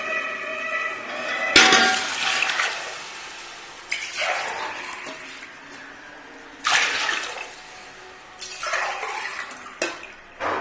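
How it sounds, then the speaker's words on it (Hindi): Water is poured glass by glass into a pot of browned chicken wings for pulao, several separate splashing gushes with quiet pauses between them, close and fairly loud. "अभी इसमें पानी डाल दूंगी"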